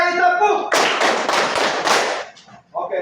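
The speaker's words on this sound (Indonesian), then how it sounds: "5 kali tepuk." Five sharp hand claps in quick, fairly even succession, close and loud, coming right after a voice and followed by more speech.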